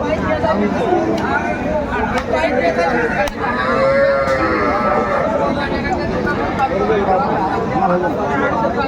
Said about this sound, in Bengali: শাহিওয়াল জাতের গাভী ও বাছুর আমরা দেখছিলাম